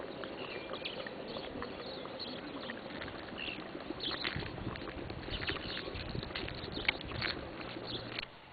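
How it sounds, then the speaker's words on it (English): A hot spring pond in Rotorua bubbles with irregular soft pops and gurgles over a low, steady background hiss, quiet and close, with no voices. "I don't know if you can hear that bubbling."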